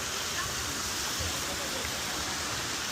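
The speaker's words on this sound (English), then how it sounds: "Got like a little splash pad here," Water spraying and splashing at a splash pad in a resort pool area in Jamaica, heard as a steady, loud, continuous rushing hiss with no breaks.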